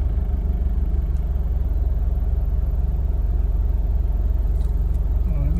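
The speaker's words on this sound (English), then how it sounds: "Right now is heavy traffic." Heavy road traffic in Matsusaka, Mie, Japan: a steady, loud rumble of car and engine noise with passing vehicles blending into a continuous roar, no pauses throughout.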